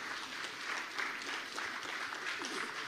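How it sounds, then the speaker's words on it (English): An audience applauds panelists at the close of a conference session, a steady wash of clapping heard from a distance at low volume, with no break in the sound. "Once again, please a round of applause for my panelists."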